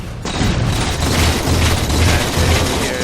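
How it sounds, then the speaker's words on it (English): Grenade explosions during a Halo 4 team slayer match: a dense, continuous rumble of booms and bursts with heavy low-end thumps, loud and close, filling the stretch without any voices. "So whatever, you throw your both grenades there."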